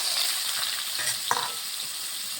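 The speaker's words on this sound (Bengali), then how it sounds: "যেই তেল ছিল এর মধ্যে আমি সবজি দিয়ে দিচ্ছি" Raw jackfruit pieces hitting hot oil left from frying potatoes, a close, steady sizzle with a quick stirring scrape partway through.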